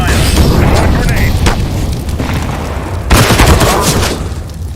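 Grenade explosions in Counter-Strike: Global Offensive, loud booming blasts with a rumbling tail that fill the whole stretch, and a second heavy boom partway through, amid continuous gunfire-like game noise.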